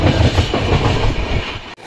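A passenger train travels on the Hyderabad to Ayodhya line with a loud, close rumbling roll and rhythmic clatter of wheels on rails that stops abruptly near the end.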